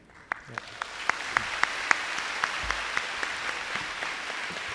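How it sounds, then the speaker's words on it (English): Audience applause at a university student programme gathering, a steady wash of clapping with distinct sharp claps popping out at a regular pace, moderately loud and slightly distant. "once again, a round of applause to Yang Berbahagia Tan Sri for the interesting sharings."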